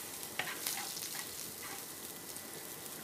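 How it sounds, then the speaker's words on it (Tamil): Crushed cumin frying in hot oil gives a soft, steady sizzle with scattered light crackles and pops, faint and close, with no voices. "கொஞ்சம் இடித்த சீரகம் போட்டு நல்லா எண்ணெயில் வதங்கி விடணும்."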